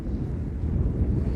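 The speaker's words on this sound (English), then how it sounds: "it's really windy" Strong wind blowing across the Greenland Ice Sheet near a field camp, a low, buffeting rumble that gusts and roars continuously into the microphone, with no voices.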